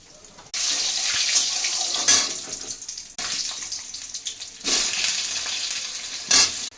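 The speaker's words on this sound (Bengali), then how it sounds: "এই যে মুসুরির ডালগুলো ভেজে নিচ্ছি" Red lentils fry in a pan in bursts of loud, rushing hiss that start and stop abruptly, with a few sharper knocks of stirring between them and no talking.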